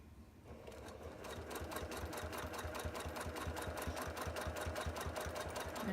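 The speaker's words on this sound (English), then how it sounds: "And just going to stitch." A sewing machine stitches steadily through a quilt, its needle hammering in a fast, even rhythm that runs close and loud from start to finish after a brief quieter start.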